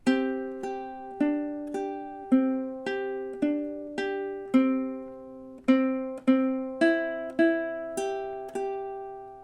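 Solo ukulele picks measures 3 and 4 of a song, about fourteen clean plucked notes in a steady, even rhythm, close and unaccompanied, each note ringing briefly before the next.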